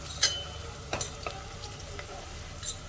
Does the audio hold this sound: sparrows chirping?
no